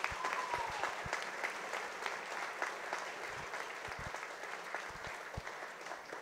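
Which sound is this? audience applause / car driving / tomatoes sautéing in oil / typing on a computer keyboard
audience applause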